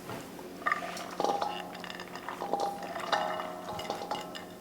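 Chickpeas and spices being stirred in a metal pot, with a spoon clinking and scraping against the sides in several uneven strokes, close up under a soft sizzle.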